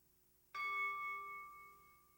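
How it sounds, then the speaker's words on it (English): A single struck mindfulness bell rings out with a clear bright onset, its pure sustained tones slowly fading as it resonates alone in a quiet room. "everyone present listens to the full sound of the bell"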